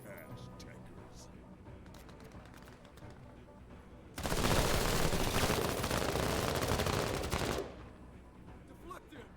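Automatic gunfire in a shooter video game erupts in a loud, continuous burst lasting about three seconds, following quieter game sounds with scattered shots and distant action.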